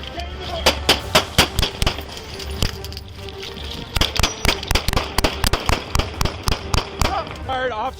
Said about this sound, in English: Officers discharged their firearms, and Lunt was struck.